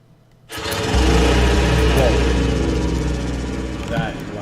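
A small machine engine in Gold Rush The Game starts up and runs loud and steady, a buzzing mechanical drone that holds for several seconds after a brief quiet lead-in.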